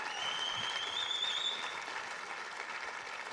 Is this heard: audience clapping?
yes